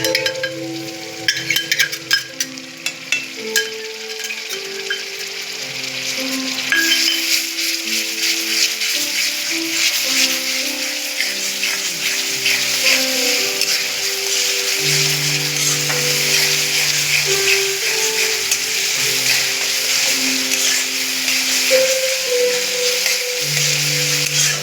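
Onions with ginger-garlic paste sizzle and fry steadily in a pan for pav bhaji, a continuous close crackle with stirring scrapes and occasional clinks, no talk.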